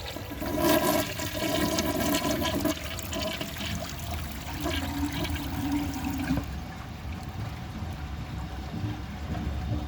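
A 1990s Kilgore low-tank toilet flushes a dish towel, giving a loud rushing gush of water that settles into a steady swirling drain and trickle, with no talk over it.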